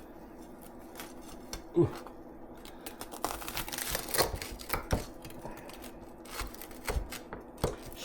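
A spatula presses down through a hot grilled cheese sandwich, giving scattered close crunches and crackles from the toasted bread, with a brief exclamation from a voice.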